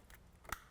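A BMW F22/F23 2 Series window switch snaps into its door trim with a quick, sharp plastic click, faint and close, preceded by a softer handling tick.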